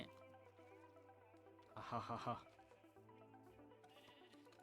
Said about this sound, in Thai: เอาละเจ้าแกะน้อย